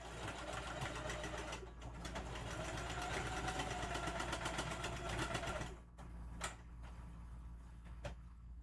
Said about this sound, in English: as I sew around